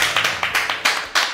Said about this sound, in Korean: 엄청나게 멋진 두 팀의 음식. 에 대한 노고에 일단 박수를 먼저 보내드립니다.